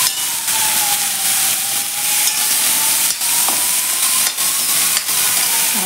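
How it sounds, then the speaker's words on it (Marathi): Spices fry in a pan while ingredients are stirred in, producing a loud, steady sizzle and hiss close up, with occasional scraping strokes of a spoon against the pan. "आणि हे आता मसाल्यांमध्ये छान असे मिक्स करून घ्यायचे आहे."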